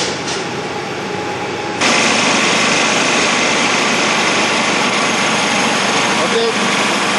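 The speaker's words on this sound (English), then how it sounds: "By placing the fog into the on position, you will observe that the fog will now begin flowing from the nozzle." A Model 1200 fogging machine runs with a steady loud hiss and mechanical hum, jumping sharply louder after a couple of seconds as fog starts flowing from the nozzle and then holding constant.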